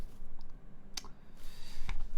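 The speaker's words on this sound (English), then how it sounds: "I hope you enjoy the typing sounds." Typing on a Noxary Vulcan Pro mechanical keyboard gives soft, close clicks and a few sharper key strikes over a steady low background hum, with no talking.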